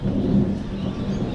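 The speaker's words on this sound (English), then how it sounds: "Crazy rainfall, guys." Heavy rain pounds down during a hail storm in Australia, a dense, continuous low roar with no pauses, loud and close.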